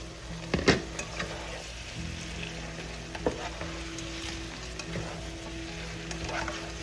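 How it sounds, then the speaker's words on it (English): Shrimp stir-fry in garlic butter in a pan, giving a quiet steady sizzle broken by a few scraping stirs and clinks from the utensil, with no one speaking. "Stir fried in butter and garlic."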